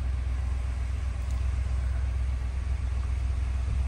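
A Ford 7.3 gasoline V8 idles just under 1,000 RPM with a steady, low, even rumble, close and continuous, with no voices over it.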